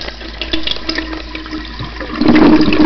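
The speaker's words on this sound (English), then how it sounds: "I'm going to flush you down the toilet" A toilet flushes, beginning with a soft trickle and running water, then surging into a loud rushing swirl for the final stretch, close and clear with no talking.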